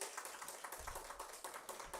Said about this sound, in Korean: 일단 박수 한번 주세요.